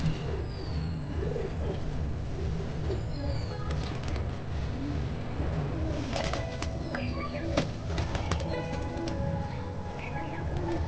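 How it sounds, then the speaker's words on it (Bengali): Pigeons released from a loft on a rooftop coo steadily and closely throughout, joined later by bursts of flapping wings and scattered chirps against a low outdoor rumble. "ছোটো খোপের পায়রাগুলো চলো এই খোপে বাইরে ছেড়ে দিই"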